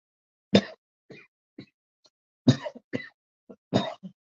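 Several close, sharp coughs come in bursts, interspersed with smaller throat noises and short silences between them.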